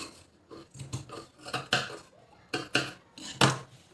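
Scissors cutting blouse fabric at a tailoring table, a string of crisp close snips and rustling swishes at an irregular pace, with no voices.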